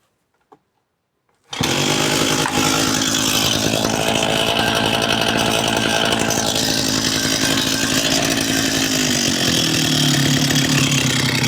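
Small petrol engine with a carburetor, sounding like a chainsaw, fires up on the first pull after a brief quiet moment, then runs loud and steady at a high buzzing pitch, close by with no talk.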